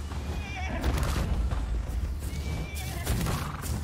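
A horse in the video game ARK whinnies in a shrill rising neigh, with hoofbeats and game ambience close beneath.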